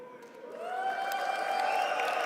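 An esports crowd at the BLAST R6 Major Copenhagen finals cheers and applauds, a broad roar of clapping and whoops that swells and holds steady throughout.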